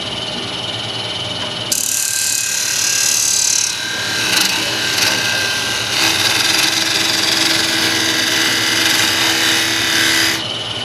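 Turning gouge cutting a thin-walled wooden bowl on a lathe, a loud continuous scraping hiss over the steady hum of the machine, starting abruptly and running several seconds before cutting off near the end.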